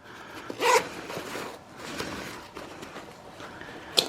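Zippers on small pouches of old-school military web gear are pulled, a quick loud rasp near the start, softer fabric rustling and handling in between, and a final short zip at the end.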